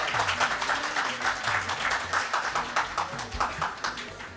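Audience clapping at a multilingual mushaira poetry gathering, a sustained, even patter of many hands at moderate volume, continuing steadily without voices over it.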